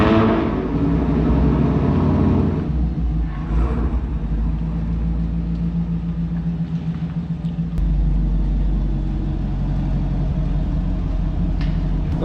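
Chevrolet Camaro engine idling and rumbling as the car pulls into a garage, a deep steady low drone with a slight swell near the start and again partway through, close and loud, with no talking.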